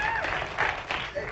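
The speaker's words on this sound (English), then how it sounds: "I don't understand why that question received applause." Studio audience applause on a late-night television talk show, a dense wash of many hands clapping that swells and dips across the moment, moderately loud with voices murmuring underneath.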